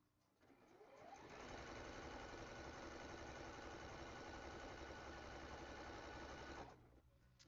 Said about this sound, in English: Trying to sew up all the little pieces first before I start connecting anything into anywhere.